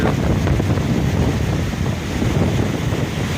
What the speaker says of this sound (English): We're just getting a lot of wind.